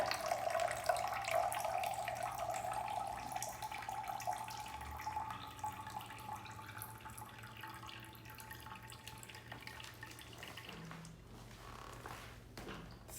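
Water is poured into a bottle erosion model planted with grass, a faint steady trickle and splash that tapers off toward the end, with no one speaking.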